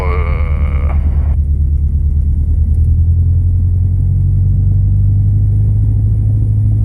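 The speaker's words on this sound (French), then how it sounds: "Régime moteur, 1100 tours" A light aircraft's piston engine idles steadily at 1100 rpm, a loud, constant low drone heard from inside the cabin. A brief higher-pitched tone sounds over it at the start.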